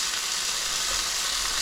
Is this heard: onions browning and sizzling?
yes